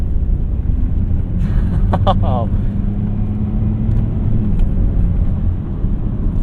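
A Saab 9-3 Aero XWD sedan drives in third gear, its engine a steady low hum with road noise throughout, near and constant, with a brief voice partway through.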